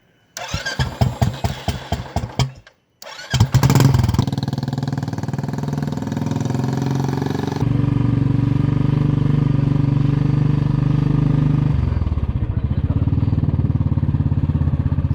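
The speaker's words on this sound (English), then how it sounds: "This is the first time I am riding a bike in the mountains." A motorcycle engine cranks with a rapid series of starter pulses, stalls briefly, then catches and settles into a loud steady running drone that shifts in pitch as the bike rides off through mountains.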